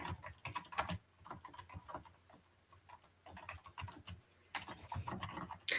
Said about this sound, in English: If you are typing, just unmute yourself.